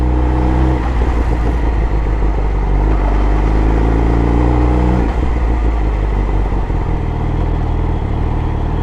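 A loud, steady car engine drones throughout while driving, with a slight shift in pitch partway through.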